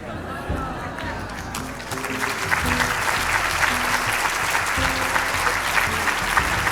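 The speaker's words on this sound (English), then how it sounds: "I don't know why you're applauding" An audience at a lecture breaks into applause that builds after a couple of seconds and holds as steady, dense clapping close by.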